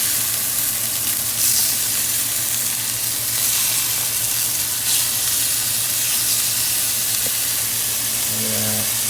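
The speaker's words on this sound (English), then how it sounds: "I'm going to go ahead and flip my steak. Get them nice and seared there." Beef medallion steaks sear in a hot pan with a constant loud sizzle and hiss, steady throughout, with a brief clatter near the end as the meat is flipped.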